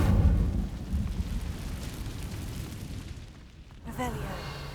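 A fire spell bursts into a loud, rumbling blast in Hogwarts Legacy, its roar fading over several seconds before a voice speaks briefly at the end.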